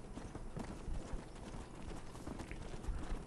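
Rapid hooves of a stolen horse galloping in Red Dead Redemption clatter in a steady, continuous clip-clop rhythm, close and fairly loud, with no talk over them.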